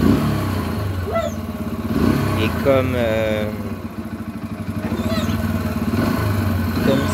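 A Yamaha XT125X four-stroke single-cylinder motorcycle engine runs steadily at idle with a slight rise in revs, heard close and continuous beneath someone speaking French.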